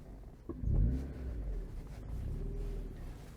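A Mazda MX-5 engine revs and accelerates nearby, a low rumble swelling then settling into a steady drone as it drives on.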